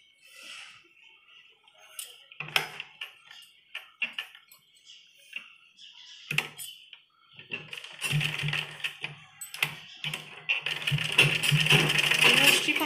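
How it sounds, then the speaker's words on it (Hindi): A sewing machine stitches the folded edge of a kitchen apron in short, stop-start bursts of rapid clatter, growing into a longer continuous run near the end, with faint handling noises between the bursts. "थोड़ा थोड़ा दोनों तरफ से इस तरह फोल्ड करते हुए सिलाई लगाएंगे"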